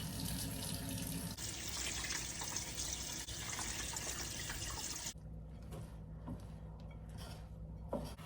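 Lukewarm water pours from a kitchen tap while making bread dough, a steady close rushing stream that ends abruptly, leaving quieter drips and small sink sounds.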